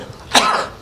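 A single sharp cough, close and loud, bursts out once and then trails off briefly into quiet.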